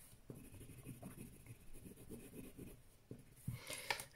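Soft, steady scratching of a coloured pencil shading across paper, drawing metal tones in short repeated strokes, quiet and close with no voices.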